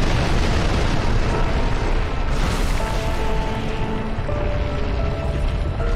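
A fire attack bursts in Dark Souls 2 against a fiery boss, a dense, sustained roaring blast with rumbling low end and crackling texture, loud and continuous throughout with faint tonal game music threads underneath.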